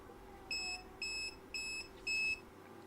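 A Zoyi ZT-DB03 AC voltage detector set to maximum sensitivity near a live wire gives four short, clear electronic beeps in a steady rhythm, close and fairly loud over a quiet background.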